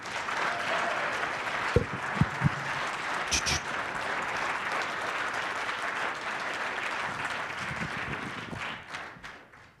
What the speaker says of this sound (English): give a huge round of applause for all the volunteers that made this happen